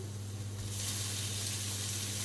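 Lardons sizzle in a pan with golden-browned onions, giving a faint, steady hiss over a low background hum, with the sizzle brightening slightly partway through.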